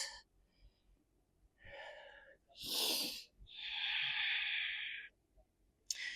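Slow, deep breaths during a yoga stretch, close and quiet: a short inhale, then a longer rushing exhale, and a long sustained breath, with near silence between them.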